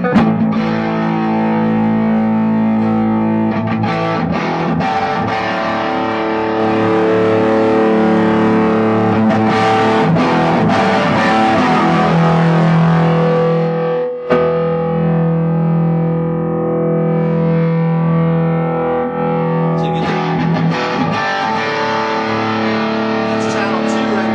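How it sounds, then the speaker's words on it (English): A loud, distorted electric guitar rings out through a Matchless Class A tube amplifier, chords sustaining and shifting over about twenty seconds, with a brief break midway. "the louder it gets, the better it's going to sound because the tubes will really start heating up"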